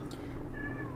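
A cat meows once, fairly close, a short rising cry heard over a steady low indoor hum.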